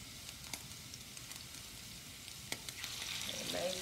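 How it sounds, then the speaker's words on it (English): Oil sizzles steadily in a very hot pan ready for searing scallops, a faint, continuous hiss with small crackles, swelling slightly louder toward the end, with no talking. "And you can hear that sizzle. It means we have a nice hot pan."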